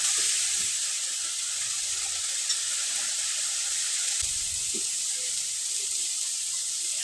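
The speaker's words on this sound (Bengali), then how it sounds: "মশলাটাকে হালকা করে কষে নিলাম" Spice paste of turmeric, salt and ground spices, loosened with a little water, sizzles in a pan with a steady, bright hiss that carries on evenly with no voices.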